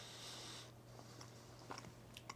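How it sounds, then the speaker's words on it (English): A piece of chocolate is chewed close up, with quiet, faint bites and soft mouth clicks over a low hum. "Chew a couple of times, all right, to start the melting process."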